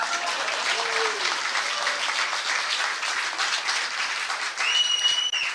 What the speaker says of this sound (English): you can applaud if you want to